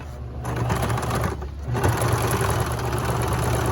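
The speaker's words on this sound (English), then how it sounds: "And so the bottom curved edge, you're gonna sew at a 1/4 of an inch" A sewing machine stitches fabric a quarter inch from a curved edge, its motor humming in fast, steady, close runs with a brief pause partway through and no speech.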